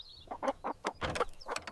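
Chickens cluck in a quick series of short, soft calls, moderately close with a little background noise.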